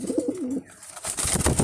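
Racing pigeons, a red checker cock and his hen kept as a hobby and tending young, give soft throaty cooing close by, then a rustle of movement follows.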